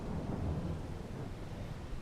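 Rain and thunder from the Farming Simulator 22 video game, a dense steady downpour with a deep rumbling roll of thunder, loud and continuous throughout.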